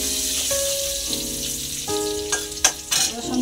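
Garlic paste frying in a pan with whole dried red chillies, cumin and green chillies, a close steady sizzle with a faint hum, interrupted by a few sharp spoon clinks and scrapes.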